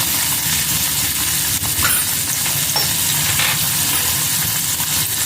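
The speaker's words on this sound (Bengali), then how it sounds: "পেঁয়াজটাকে লাল লাল করে ভেজে নিতে হবে" Chopped onions fry in a pan for an egg tadka, a loud, steady sizzle with stirring scrapes running throughout, close and with no talking.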